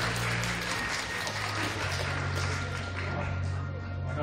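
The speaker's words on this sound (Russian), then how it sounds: "Еще раз аплодисменты нашей геройской коалиции." Steady applause from a cosplay festival audience, a continuous dense wash of clapping at even volume with a low electronic hum running underneath, no voices on top.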